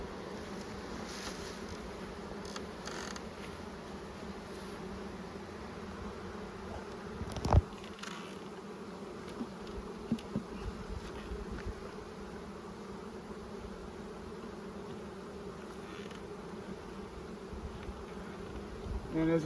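Honeybees buzzing around two-sided hives on a hot day, a dense continuous drone of many wings at close range, with individual bees flying past now and then and a brief knock midway, no talk.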